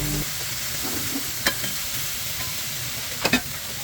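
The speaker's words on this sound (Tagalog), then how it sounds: "haluin uli natin" Pork adobo simmering in a pan as a utensil stirs it, a soft steady sizzle with two or three sharp scraping knocks against the pan, with no one speaking.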